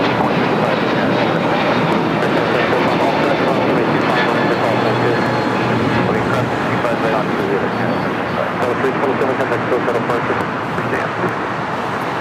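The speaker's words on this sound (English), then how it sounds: "ANA Dreamliner making that left-hand turn onto Lima. Flight 6 coming in from Tokyo Narita, 787-9 Dreamliner." An ANA Boeing 787-9 Dreamliner, arriving from Tokyo Narita, taxis at LAX while making a left turn onto a taxiway. Its steady engine roar fills the whole stretch at close range and high level, mixed with wind and distant traffic.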